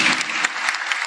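A concert crowd claps for young violin students, a thick wash of hand claps with a few sharper individual slaps standing out, close and sustained with no talking.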